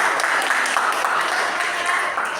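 A classroom group claps for a student team after its presentation on the respiratory system, giving a dense, even patter of hands that holds steady at close range throughout.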